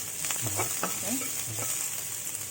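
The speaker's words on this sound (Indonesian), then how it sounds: "Udah panas kita tumis. Bawang putih dulu." Garlic stir-fried in hot oil for fried kwetiau with meatballs, giving a steady sizzling hiss with a few soft spatula scrapes and stirs close by, no one speaking.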